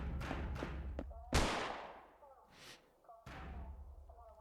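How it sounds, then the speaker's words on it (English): A gunshot in the video game Holstin rings out as a single sharp, loud crack that fades in a long decaying tail, surrounded by softer thuds and a person talking. "So the gunshot, I think it came from a women's restroom."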